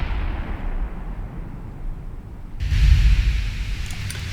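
Naval gunfire in the warship game Ultimate Admiral Dreadnoughts: a low rumbling battle roar, then a heavy booming salvo erupts partway through and rolls on loudly with crackling, noisy bursts.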